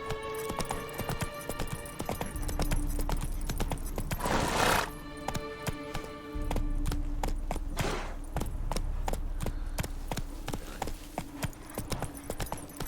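Rhythmic clip-clop of horse hooves trotting in The Witcher 3 video game, steady and close, with a couple of louder rushing bursts and clicking sounds mixed in.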